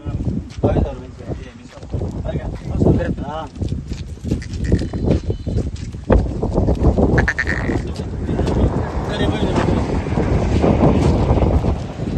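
Kathiawari goats bleat intermittently from a herd outdoors, heard under steady nearby talk with some wind buffeting and shuffling hooves.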